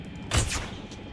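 A tranquilizer gun fires a single short, sharp shot at a small Gallimimus dinosaur in the video game Jurassic World Evolution. The crack stands out briefly against a low background hum.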